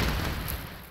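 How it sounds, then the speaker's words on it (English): A missile explosion striking an AA tank target in the helicopter combat video game Thunder Helix, a single loud, dull boom with a broad rumbling tail that fades over about a second. "So the missile goes into target."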